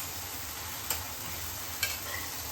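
Karamani cowpeas stirred and dry-roasting in a pan for a kara kuzhambu, a steady low sizzle with two sharp scrapes of the spoon, close and without talk.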